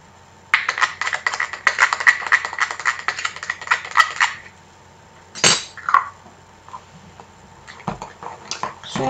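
Shea and baobab conditioner is mixed in a bowl, with rapid clinking and scraping strokes for about four seconds, then a few sharper knocks and scattered taps against the bowl, with no voice heard.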